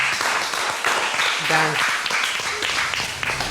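Studio audience applause for a guest from Réunion on a French comedy react show, broad clapping throughout mixed with overlapping voices and chatter.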